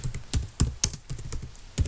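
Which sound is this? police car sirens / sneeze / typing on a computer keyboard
typing on a computer keyboard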